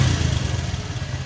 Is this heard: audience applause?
no